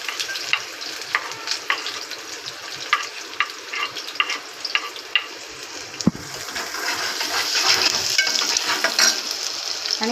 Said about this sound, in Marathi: उभा कापायचा कांदा, तो आपल्याला परतून घ्यायचा आहे कांदा.